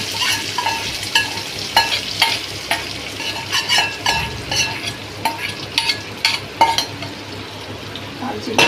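Curry leaf tempering poured sizzling onto mutton chukka in a pan, a frying hiss under loud, irregular scraping and clanking of a spoon against the metal pan.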